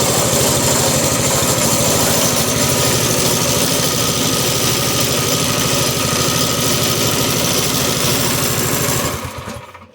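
Small go-kart engine fitted with a Tractor Supply centrifugal clutch, running loud and close at a steady idle with a fast, even throbbing pulse for about nine seconds before cutting off.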